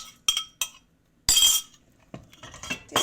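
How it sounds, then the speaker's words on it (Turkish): A spoon clinks against a bowl while a soup mixture is stirred, giving a few sharp taps followed by a longer scraping swirl and more light clatter, close and clear with no voices. "Bunu şöyle güzelce bir karıştırıyorum."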